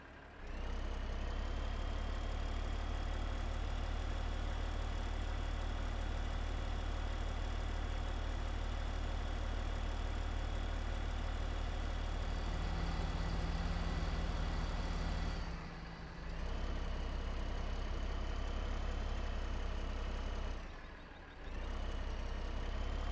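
A steady, droning tractor engine in Farming Simulator 15 rumbles continuously at a constant idle-like pitch, with two brief dips in the sound.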